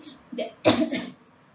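A couple of short, dry coughs close to the microphone, the second louder, followed by quiet.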